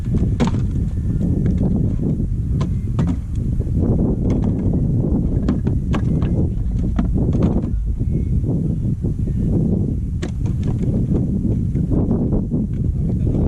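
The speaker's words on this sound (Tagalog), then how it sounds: "Hangin ah." Steady, loud wind buffeting the microphone throughout, a low continuous roar with scattered knocks and rattles.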